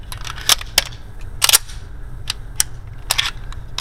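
A Bul 1911 single-stack 9x19 pistol fires MagTac ammunition on a range, with several sharp, loud shots in an uneven rhythm, some close together in pairs, and no voices.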